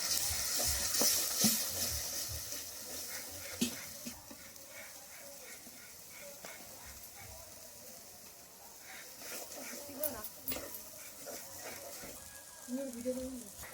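A small amount of water added to a spice paste frying for a catla fish kalia sets off a faint, uneven sizzle with scattered pops and light clinks, fading and then picking up again.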